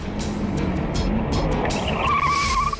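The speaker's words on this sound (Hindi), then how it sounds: "मैडम, लगता है गाड़ी का ब्रेक फेल हो गया है।" A car with failed brakes skids hard, its tires squealing in a loud, rising screech over rumbling road noise and clattering bursts, close and alone without speech.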